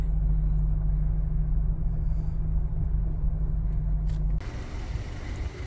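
A car rolls slowly through a tunnel cut in a giant redwood, its engine a steady low rumble close by that drops away near the end as it emerges, with no talking.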